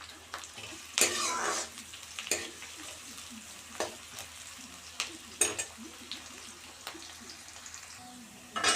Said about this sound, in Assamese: পিঁয়াজখিনি ৰঙচুৱা হোৱালৈকে ভাজি থাকিম।